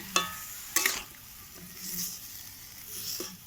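Food being stirred in a pan, a couple of sharp scraping knocks of a utensil followed by a soft, low sizzle that swells and fades, close and fairly quiet.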